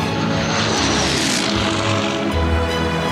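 Supermarine Spitfire WWII fighter flying past, its piston aircraft engine a loud steady propeller roar with rich droning harmonics, shifting slightly in pitch as it passes, no voices.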